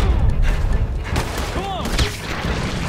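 Gunfire in Red Dead Redemption 2 during a shootout at a bank, several sharp shots and booms with ricochet whines amid busy battle noise, someone talking over it.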